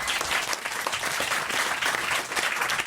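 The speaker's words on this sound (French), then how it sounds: "On vous applaudit quand même" Studio audience applauding on a French radio comedy show, a dense, steady burst of many hands clapping at close range, loud and continuous throughout with no voices breaking through.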